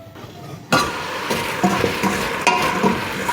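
A wooden spoon stirs apples being sautéed in a pan on an induction hob for an apple crumble. Loud scraping and clinking strokes repeat over a constant close sizzle, with no speech.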